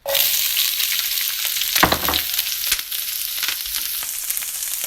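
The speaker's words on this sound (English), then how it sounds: "so we got our peppers ready for our saute" Chopped spicy peppers hit a hot pan for a sauté, a loud bright sizzle bursting in and holding steady, broken by a few scrapes and clatters of stirring, with no talking.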